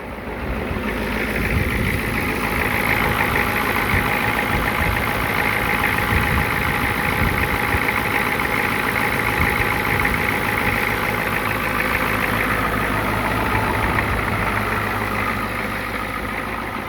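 An old Ford car engine idles steadily and loudly nearby through a small exhaust, a continuous low rumbling drone with a constant even rhythm and no talking.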